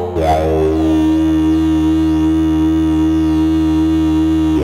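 A Behringer 2600 synthesizer drones a loud, steady buzzy tone with its filter modulation turned up, the upper overtones sweeping and warbling continuously over the sustained low note, with no talking.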